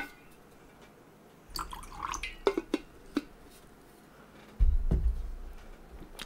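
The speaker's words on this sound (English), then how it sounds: "I keep drinking water both because it's still really hot here and also to keep me awake." A drink of water taken during hot weather: a few close wet sips and swallows, with a soft clink of a glass or bottle and a heavier gulp near the end.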